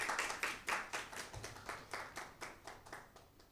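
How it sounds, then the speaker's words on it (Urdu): Audience clapping welcoming a poet at a special Advent-season mushaira, an Urdu poetry gathering, heard as a quick, uneven run of distinct hand claps that ease into steadier, moderate applause with no talking. "آپ کی بہت ساری تالیوں میں"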